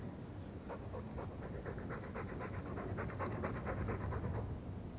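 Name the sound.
mabari dog panting in video game Dragon Age 2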